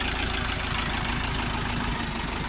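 A Dongfeng 404 mini tractor engine idling nearby, a steady loud mechanical chugging with an even rhythm and no other sounds.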